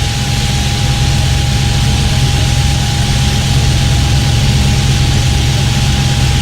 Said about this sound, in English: Beautiful engine start. Oh, I can hear it.